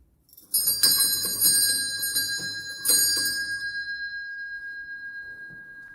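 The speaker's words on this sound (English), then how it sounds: "That little bell is in the lower hall. It gets rung to indicate to people that the service in church is about to begin." A small hand bell in a church's lower hall rung to signal that the service is about to begin, a run of bright clanging strokes, a renewed burst, then a long ringing fade.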